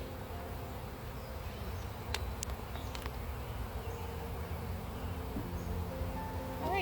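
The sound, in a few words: bees buzzing around an opened hive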